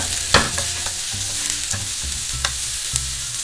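Thinly sliced large onion sautés in a pan for Bellary chicken, a steady close sizzle broken by repeated scraping stirs and clinks of a spoon against the pan, with no talking.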